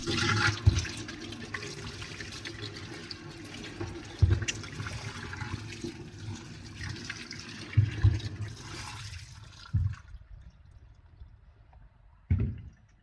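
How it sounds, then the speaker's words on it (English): Tap water runs into a sink while a mixing cup and lid are rinsed of food residue, a steady close splashing with a few louder bumps, then the flow stops and the room goes quiet. "First, rinse off the food residue with water."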